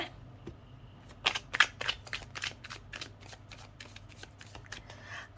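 Tarot cards are shuffled by hand during a horoscope reading, giving a quiet run of quick crisp riffling snaps and flutters, close up and without talk.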